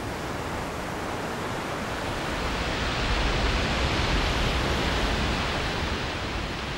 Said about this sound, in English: one of the premier big waves in the world, and it's breaking today.